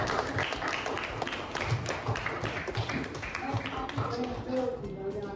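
Schoolchildren in a fifth-grade class clap together for a classmate's group, a busy patter of many hands with steady rhythmic taps, fairly close and continuous, with some voices mixed in.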